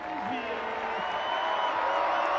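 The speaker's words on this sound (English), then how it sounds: "Oh, the crowd as he comes on" A stadium crowd at a Charlotte FC vs Orlando City SC US Open Cup match roars and cheers as a substitute comes on, a steady swelling wall of crowd noise with some whistling tones.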